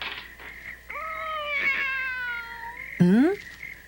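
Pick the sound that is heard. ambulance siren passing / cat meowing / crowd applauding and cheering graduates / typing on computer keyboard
cat meowing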